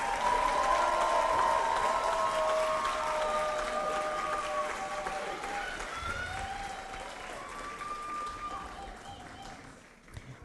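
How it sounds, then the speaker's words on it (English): Sustained audience applause for master's graduates at a university hooding ceremony, a dense, steady wash of clapping from a large crowd that gradually thins and fades out near the end. "Can we give all of our graduates a round of applause?"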